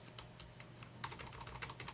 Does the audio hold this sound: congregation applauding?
no